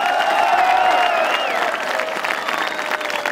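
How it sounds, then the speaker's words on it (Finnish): Crowd at a hockey championship celebration in Kouvola's town square giving fairly quiet, steady applause with a few scattered cheers, sustained throughout at moderate distance. "Aika hiljaiset aplodit lähti tähän kohtaan."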